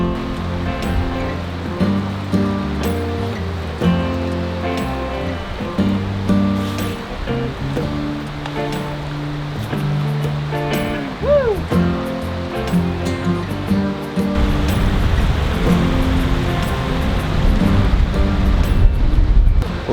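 Water washing onto a beach at Cypress Point on a man-made lake where a river flows in, a continuous rushing wash under steady low engine-like hum, growing louder and fuller toward the end.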